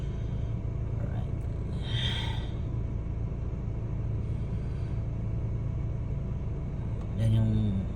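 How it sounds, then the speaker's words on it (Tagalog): A car driving on a road in traffic gives a low, steady engine rumble throughout, close and moderately loud, with a brief louder swell near the end and faint background voices. "Yan yung sasakyan ni brother guys."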